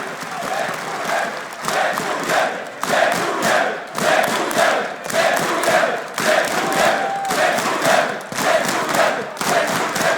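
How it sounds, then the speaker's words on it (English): A large arena crowd at a CS:GO esports tournament semifinal in Katowice roars and chants in loud rhythmic waves, with stomping thuds and cheering pulsing steadily throughout. "The crowd is phenomenal."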